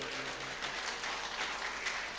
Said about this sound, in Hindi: आपके ताली को ज्यादा बजा दिया आपने